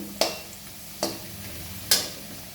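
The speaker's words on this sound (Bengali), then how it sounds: "জিরে ফোড়ন, তেজপাতা ফোড়ন দিয়ে হয়ে গেছে একটু ভাজা ভাজা আলু" Potatoes frying in oil with cumin and bay leaf, three sharp stirring scrapes spaced about a second apart over a soft, steady sizzle, close and moderately loud.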